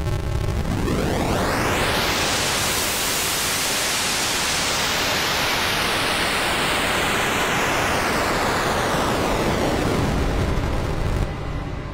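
The noise engine of a Korg minilogue xd synthesizer runs through a shimmer-type riser reverb, producing a loud, dense wash of noise that sweeps upward in pitch and sustains, with a swirling shimmering tail and no talk.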